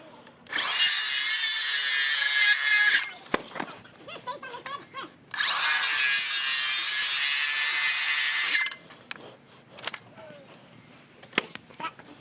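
A power saw cuts through wooden deck boards in two long, loud, steady bursts of a few seconds each, with short gaps of clattering wood and shuffling between and after them.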